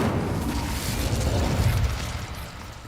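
Incendio fire spell cast in a Hogwarts game, a broad rushing whoosh of flame that holds steady for a few seconds and then fades slightly, with no voices over it.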